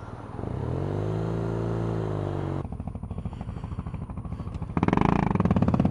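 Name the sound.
BMW R nineT Racer motorcycle engine running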